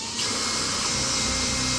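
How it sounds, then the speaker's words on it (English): A power drill runs steadily through old screw holes in a door frame, giving a loud, continuous whirring drone from start to finish. "I run my drill through it"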